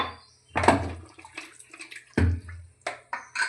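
A cup of water is poured over pork pieces for a Kerala-style pork fry, heard as a few distinct splashing bursts separated by quieter gaps, close and fairly soft.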